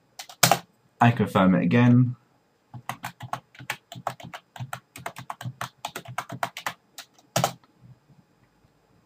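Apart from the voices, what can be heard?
typing a password on a computer keyboard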